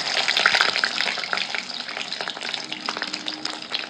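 Fish roe frying in hot oil with black cumin seeds in a pan, a dense, steady sizzle with crackling pops, close and fairly loud throughout, no talking.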